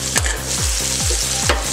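Zucchini and onion slices fry in a hot pan, giving a steady loud sizzle with a few scraping stirs cutting through it. Nobody speaks.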